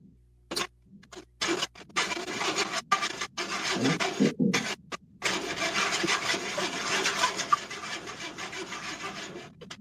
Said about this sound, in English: That tortilla sounds like it's rocks rolling around in that pan.